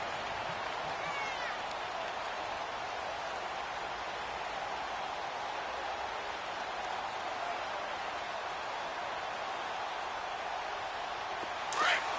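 Stadium crowd in a football video game, Chicago Bears vs Minnesota Vikings: a continuous, even roar of cheering fans held at a moderate, distant level for the whole stretch, with a brief swell near the end.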